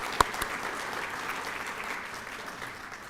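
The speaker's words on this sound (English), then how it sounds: "So please applaud them." A graduation audience claps for new graduates: one sharp clap up front, then a soft, sustained patter of applause from a large room, fairly faint and even.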